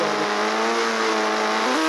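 Car engine in a GTA-style video game droning steadily and loudly at moderate revs, the pitch climbing slightly near the end as it accelerates, no voices.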